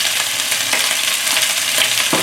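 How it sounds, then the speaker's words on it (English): Loud, continuous sizzling of beef and broccoli stir-frying in a hot pan, with scattered crackles and light stirring scrapes throughout. "As long as you can hear the sizzle sound, you're good."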